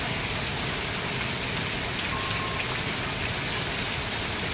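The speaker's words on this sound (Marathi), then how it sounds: "भरपूर पाऊस पडतो दुपारपासून" Heavy rain pouring steadily outdoors since midday, a dense, even hiss of drops hitting the ground and surfaces without pause, with no voices.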